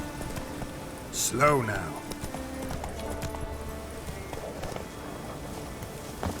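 Hooves of Roach, the horse in The Witcher 3, clop along at a steady run on the ground under a brief spoken line, with faint rain-like ambience behind.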